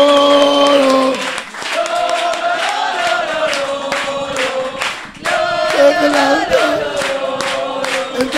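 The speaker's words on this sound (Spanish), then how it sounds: "Seguir aplaudiendo porque nos hemos llevado un premio" An audience at an award celebration claps and cheers loudly, with continuous applause mixed with excited shouting voices all the way through.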